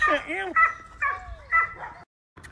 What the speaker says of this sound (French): Voici River. River. Malinois